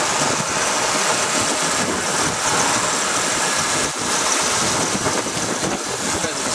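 A 1966 Ford Mustang Fastback engine idles quietly and steadily, a constant low hum with light mechanical rumble and no talking.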